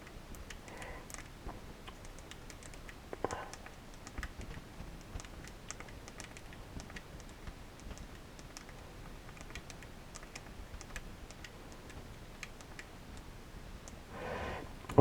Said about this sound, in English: Let's compose a new text message. Okay, now I'm just going to write down, this is a test of the BlackBerry keyboard.